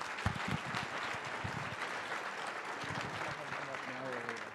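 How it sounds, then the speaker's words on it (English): A conference audience at a closing ceremony applauds steadily, a dense even wash of clapping throughout, with brief talk over it near the start. "So everybody clap for that."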